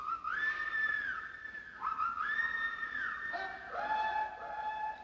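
A sharp, shrill whistle sounds in several sustained blasts with sliding pitch. It is clear and fairly close, with a short pause between calls.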